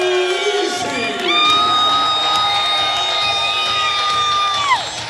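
An amateur fight crowd at Monona Terrace cheers loudly after a knockout win, with whoops and long sustained shouts rising over a continuous roar.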